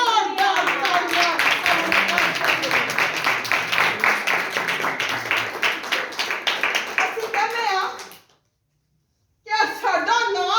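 Church congregation clapping together in a sustained, loud round of applause that cuts off abruptly into silence, then a voice resumes speaking.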